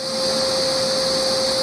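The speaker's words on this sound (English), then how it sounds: "Get you a Hoover carpet cleaner, pretty good." A Hoover Smartwash Automatic FH52000 carpet cleaner shampooing a carpet gives off a loud, steady motor whine with a constant high-pitched tone, running close and unbroken with no talking.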